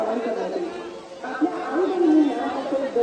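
Devotees chatter as a crowd at the Ekvira temple, a steady murmur of many voices with a nearby voice talking over it.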